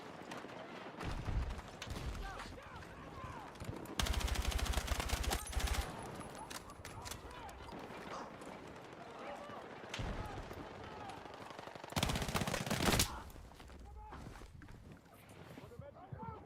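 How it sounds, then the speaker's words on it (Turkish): SMG fire rattles in rapid bursts during a Battlefield 6 match, with two dense, loud stretches of automatic gunfire among other game noise. Someone talks over much of it. "SMG ne güçlüymüş ya"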